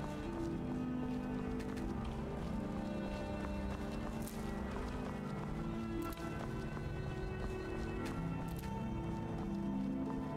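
Horse hooves galloping steadily in the video game Skyrim, a continuous rhythmic clip-clop under game ambience and faint talk.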